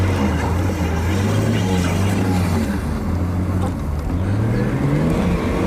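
A rear-wheel drive car hooning across a farm field, its engine droning loud and close with a steady low roar that rises in pitch as it revs, continuous throughout.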